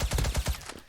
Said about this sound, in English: I love how everything sounds when it's silenced